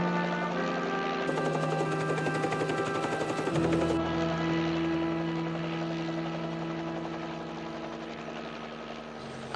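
A police helicopter's rotor and engine drone steadily overhead with a rapid chopping beat early on, the tone holding at a moderate level and fading slightly toward the end.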